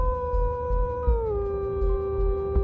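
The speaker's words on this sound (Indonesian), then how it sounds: "lolongan anjing yang terus membelah kesunyian malam" Dog howling at night in a horror story setting, one long sustained tonal howl that slowly drops in pitch, steady and fairly clear over a low rumbling background.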